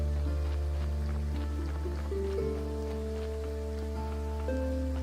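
Steady rain patters on surfaces in the video game Graveyard Keeper, a constant hiss running beneath soft sustained game music that stays level throughout.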